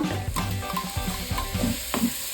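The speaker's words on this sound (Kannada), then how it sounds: "ಟೊಮೊಟೊ ಫ್ರೈ ಆಗ್ತಾ ಇರಲಿ" Tomatoes fry and get stirred in hot oil in a pan while cooking Ambur biryani, with steady close sizzling and repeated scraping stir strokes. No voices.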